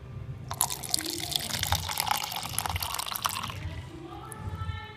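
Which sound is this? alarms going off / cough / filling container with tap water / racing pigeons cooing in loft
filling container with tap water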